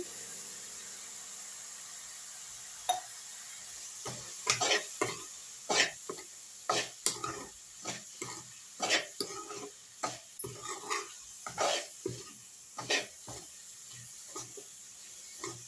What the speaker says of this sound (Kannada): ಒಂದು ಐದು ನಿಮಿಷ ಫ್ರೈ ಮಾಡ್ಕೊಳ್ಳೋಣ ರವೆನ